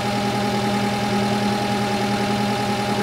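An old diesel tractor engine with glow plugs idles steadily and close by, a continuous low rumble with a faint knocking pulse and no talk.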